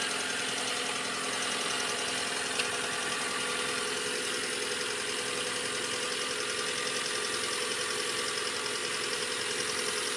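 A 2003 Ford Lynx engine runs after a water pump replacement, holding a steady, even idle drone with a faint mechanical ticking and no one speaking.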